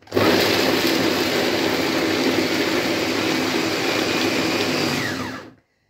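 An electric grinder or chopper mincing onion and green pepper with nothing else added, a loud steady motor whine with a churning blade that runs continuously for about five seconds and then stops abruptly.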